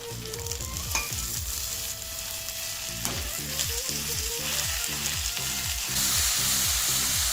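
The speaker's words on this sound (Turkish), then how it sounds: "Soğanımızı koyup kavuruyoruz. Kavrulan soğanlarımızın üzerine kıymamızı ilave ediyoruz." Chopped onion and minced meat sizzle and fry in butter in a pan for a Persian shaloqmeh pastry filling, a steady loud crackle with rhythmic scraping stirs repeating about twice a second, close up and with no talk.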